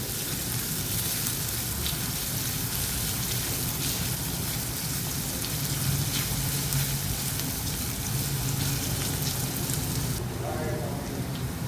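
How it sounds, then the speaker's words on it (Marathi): Finely chopped onion sizzling in hot oil, a steady dense crackle and hiss throughout with occasional stirring. "बारीक चिरलेला एक कांदा, हे तेलावर परतून घेऊया."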